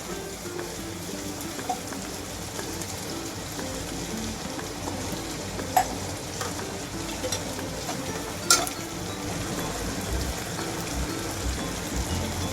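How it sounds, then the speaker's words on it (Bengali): Mashed brinjal with chopped green chillies and tomato being sautéed in a pan, giving a continuous even sizzle with faint stirring scrapes and two brief sharp clinks. "কাঁচা লঙ্কা কুচি দিয়ে আরেকবার এভাবেই কষাবো"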